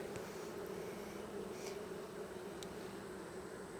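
Honey bees buzz on a beehive frame in a dense, steady drone that is continuous and close, with no talking.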